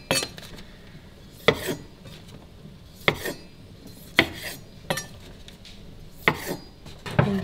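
Salad ingredients such as cut tomatoes are tossed in a bowl, giving sharp clinks and scrapes of utensils against the dish, about eight distinct bursts spaced irregularly over a quiet background.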